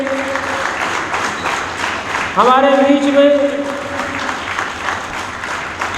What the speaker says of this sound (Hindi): शैलेश भाई सोलंकी जोरदार तालियों से स्वागत करते रहिए।